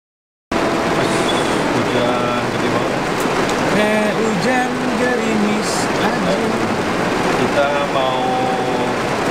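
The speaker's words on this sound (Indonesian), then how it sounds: "ya hujan dulu" Rain falls steadily at a bakwan bumbu street food stall in Setiabudi, Indonesia, a dense continuous hiss that fills the scene as voices talk over it.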